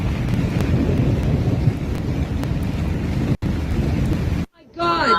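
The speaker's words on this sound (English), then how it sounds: "thunderstorms and whiteout conditions." Thunderstorm winds at the Burning Man desert festival batter the microphone in a loud, steady roar of rumble and rain-like hiss, broken by a sudden cut and a brief gusty lull near the end.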